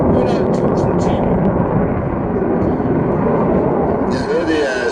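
A JAS 39 Gripen fighter jet at a 2009 airshow gives a loud, steady broadband roar that fills the whole clip, with commentators talking over it.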